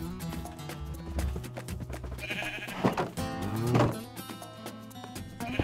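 Minecraft sheep bleating in a video game, several game bleats over a background of looping game music and other clip-clop sounds, no talking.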